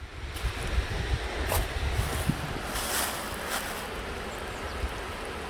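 A mountain valley stream in Bakdal gorge rushes over rocks nearby, a loud, steady roar of water with no break.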